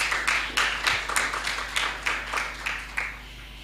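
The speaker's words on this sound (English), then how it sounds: "Round of applause, please." An audience at the launch of the Kenya National Plastic Action Partnership conference claps in a moderate, rhythmic round of applause that holds an even pace for several seconds, heard from within the hall.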